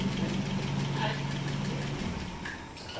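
A Citroën Traction 11BL fitted with an ID19 engine idles close by in a low, even mechanical hum, while people talk over it.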